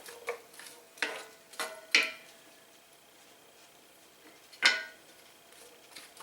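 Vegetables stirred with a utensil in butter in a skillet on medium-high heat, a handful of scraping clinks against the pan separated by quiet pauses.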